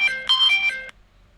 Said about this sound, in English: an app that you can use for your phone, Android, iPhone, that sets up proximity, your location, and gives you an early notification of an earthquake